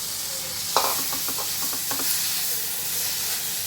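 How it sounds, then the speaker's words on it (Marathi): Grated beetroot with turmeric, chilli and salt sizzles steadily in a pan while a spoon stirs it, giving a quick run of scraping taps over a continuous hiss. "मस्त त्याला हलवून घेऊ"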